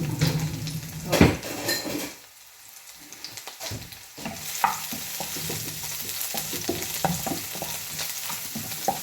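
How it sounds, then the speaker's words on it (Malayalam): Crushed garlic sizzles in hot oil while a utensil scrapes and stirs the pan, steady frying hiss with clinks of metal, close up and without speech. "വെളുത്തുള്ളി ചതച്ചത് ഇട്ടു ഒന്ന് ഇളക്കട്ടെ"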